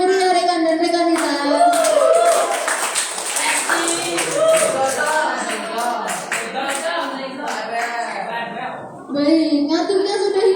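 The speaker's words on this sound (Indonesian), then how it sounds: "beri tepuk tangan yang meriah rekan dan rekan kita" Crowd applause at an evening organisation inauguration ceremony, clapping mixed with loud voices and cheering throughout, dense and sustained.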